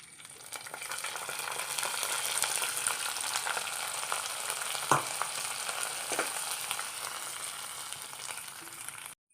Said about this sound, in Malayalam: വറ്റൽ മുളക് ഇട്ട് കൊടുക്കാം കറിവേപ്പില ചേർത്ത് കൊടുക്കാം നമുക്ക് താളിപ്പൊഴിച്ച് കൊടുക്കാം